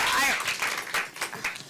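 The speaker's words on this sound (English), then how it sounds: "Let's give them another round of applause." Another round of audience applause at a panel on food waste and food insecurity, clapping that swells and then thins under some talk and cheering.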